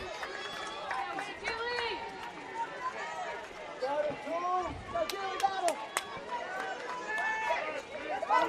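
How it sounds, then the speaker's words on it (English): A softball crowd at a regional championship game chants and shouts encouragement at a batter, with many voices and some claps carrying continuously. "Buff Nation crowd encouraging Julie to battle here"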